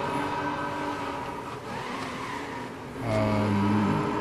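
A racing car engine in the Need for Speed video game drones steadily at high revs, then swells louder with a deeper, rising roar near the end, with no talk over it.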